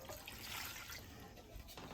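Filtered water is poured into a well of flour for homemade bread, a soft, continuous splashing trickle heard close by and at low volume.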